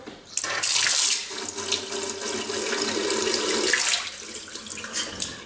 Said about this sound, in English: I'm just going to pour that down the sink, and I'm going to wash that through now